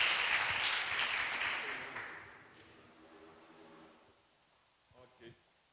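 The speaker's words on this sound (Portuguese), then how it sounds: "Vamos aplaudir o senhor pela vida deles" A congregation applauds during a church prayer service, with dense clapping that starts loud and fades out over a few seconds, leaving a quiet room and a few faint sounds.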